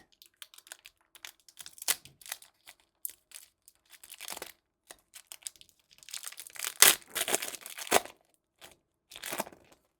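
Plastic Pokémon trading card packaging crinkles and crackles as it is opened in irregular bursts, close and fairly loud, with brief quiet gaps between handling sounds and no talking.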